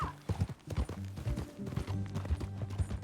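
Horse hooves clip-clop in Red Dead Redemption 2, a close, uneven series of thudding steps at a walking pace, with no voices over them.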